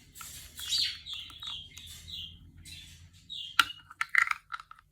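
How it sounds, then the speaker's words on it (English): A pet parrot whistles and chatters in the background, with a run of short, bright chirps and warbling calls followed by sharper clicks and tweets, faint and somewhat distant indoors. "you can hear my parrot in the background there. If you can hear it whistling and jabbering away"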